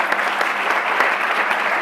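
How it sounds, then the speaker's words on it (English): Brief, steady applause from an audience thanking a panel of speakers after a discussion, a dense mass of clapping at moderate loudness. "Last round of applause."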